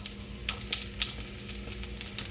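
Cumin seeds and two garlic cloves crackling in hot oil over a low flame, a soft continuous sizzle dotted with sharp pops and spits, close but fairly quiet, no voices.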